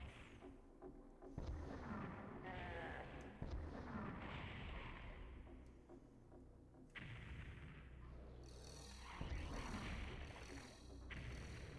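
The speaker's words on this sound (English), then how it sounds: "Now let's use all those rockets that we've collected in the last level." Rocket launcher blasts and explosions in Doom for PSX, a series of heavy booms and rumbling bursts over a continuous dull roar, with several sharp hits scattered through the stretch.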